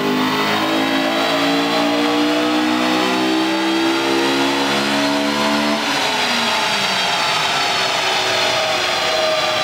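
A VTEC car engine revs hard on a chassis dyno during a power run, its loud, close pitch climbing steadily for about six seconds before dropping sharply and settling into a sustained high drone.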